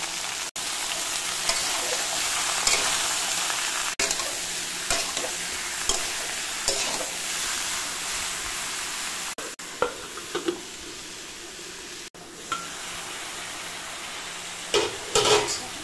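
Bottle gourd with salt and turmeric being stirred in a pan, a steady close sizzle with spatula scrapes and a few sharper knocks against the metal near the end.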